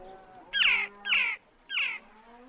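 A crow-like bird squawks three times in an audiobook sound effect, harsh raspy caws spaced about half a second apart, close and clear over a faint low hum.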